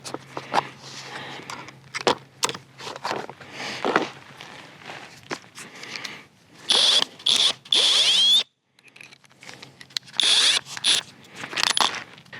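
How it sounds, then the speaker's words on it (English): Power drill driving screws into wooden shed framing, with several whirring bursts of a few seconds each alongside knocks, shuffling footsteps and handling noises nearby. "we're going to use our drills to put the screws in"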